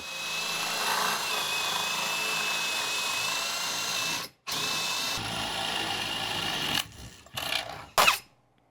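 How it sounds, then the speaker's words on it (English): A power drill whines steadily for several seconds boring through wood, stops briefly, then resumes before sputtering out with a few short bursts at the end. "I'm going to try and angle my drill so that the wire comes out just about here"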